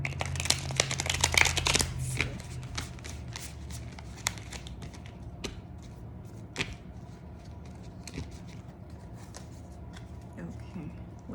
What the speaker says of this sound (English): I like to shuffle 3 times.